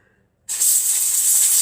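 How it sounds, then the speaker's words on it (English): A steady, loud hiss of aerosol spray blasts a sewing machine presser foot clean of lint and sawdust, starting abruptly after a brief silence and holding continuously. "Now here's the foot, and I'm going to spray it off too."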